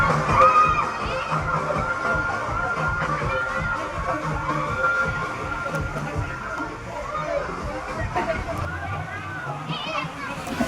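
Crowd noise at a water park: busy chatter and children's shouts and cheers mixed with splashing water, constant and lively, with nearby voices talking over it.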